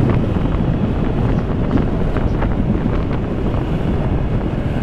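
Wind rushes hard across the microphone while riding a scooter on a twisty stretch of old Route 66, a dense steady roar with no speech.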